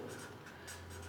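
Marker or chalk scratches steadily across a classroom board in short strokes, a soft continuous scraping with no one speaking.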